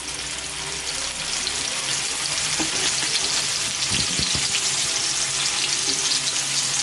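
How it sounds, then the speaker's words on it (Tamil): Marinated fish pieces shallow frying in onion-flavored oil for fish biryani, giving a loud continuous crackling sizzle with a few brief stirring clinks partway through, close and unbroken. "சும்மா அரைவேக்காடாக பொரிச்சு எடுத்துக்குவோம்."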